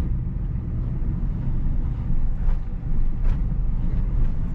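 A car moves along a quiet village road in third gear, its engine and tyre rumble steady and fairly loud from inside the cabin, with faint brief whooshes passing midway.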